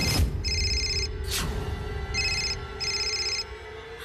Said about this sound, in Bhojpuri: मल्हार के फोन।